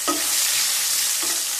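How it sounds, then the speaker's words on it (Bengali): Garlic cloves fry in hot oil with whole cumin seeds for Bengali dal, giving a steady close-up sizzle with two short scraping stirs near the start and end. "দিয়ে রসুনগুলোকে হালকা ভেজে নেব।"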